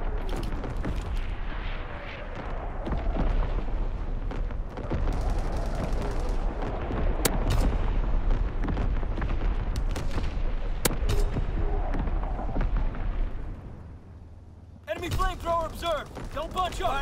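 Heavy artillery barrage in Call of Duty WWII, with repeated booming impacts and gunfire rolling over one another for most of the stretch, loud and close, with game voices speaking over it near the end.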